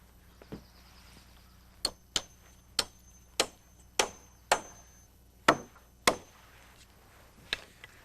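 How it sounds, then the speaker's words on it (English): Hammer blows drive nails into a permanent sway brace on a roof ridge during framing: about ten sharp, evenly spaced strikes ring out close by over a quiet background, with no talking. "we nail in a permanent sway brace"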